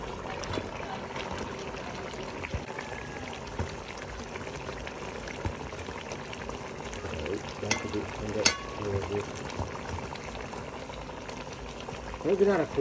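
Fish and okra curry bubbles softly in a pan on the stove, a low, steady simmer with occasional faint pops and clinks while a person talks over it.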